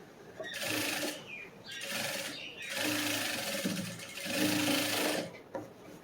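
A sewing machine stitches a lined blouse in short bursts, four runs of rapid whirring separated by brief pauses, close and clear.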